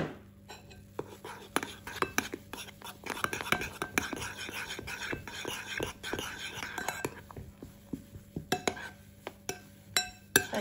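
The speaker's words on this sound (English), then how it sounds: "And mix it thoroughly." Zucchini with salt and pepper is mixed in a bowl, heard as soft scraping and a series of sharp utensil clicks and taps against the bowl, louder toward the end, with quiet low voice in the background.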